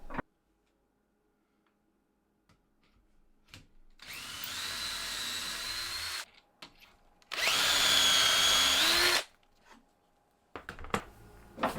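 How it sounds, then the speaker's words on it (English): Two long bursts of a power drill boring dowel holes into wooden slats clamped in a vise, a few seconds each with a pause between, plus some clicks and handling noises around them. "clamped up, and start drilling lots of holes"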